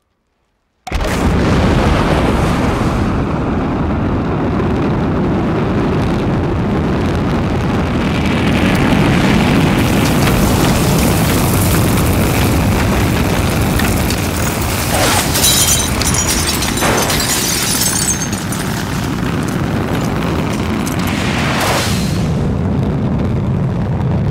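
A Proton rocket launches with a sudden onset into a long, loud, continuous roar and rumble that stays heavy for over twenty seconds, broad and thunderous.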